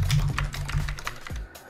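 Brisk typing on a computer keyboard to chat in Second Life: a quick run of close, sharp key clicks in uneven rhythm over a low background hum, ending abruptly.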